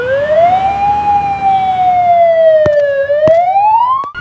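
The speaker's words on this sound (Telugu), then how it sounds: "దీని పేరు అంబులెన్స్." Loud, close ambulance siren wails with a slow rising and falling tone, steady and continuous, with a few sharp clicks near the end.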